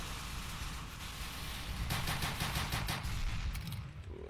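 Rapid turret gunfire in the dinosaur shooter Dino D-Day, a dense stream of shots over a constant noisy backdrop, loudest in a burst of sharp repeated reports during the latter half.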